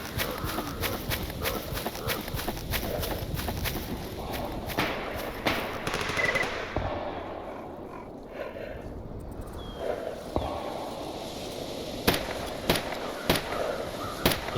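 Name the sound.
gunfire in video game Stalker Anthology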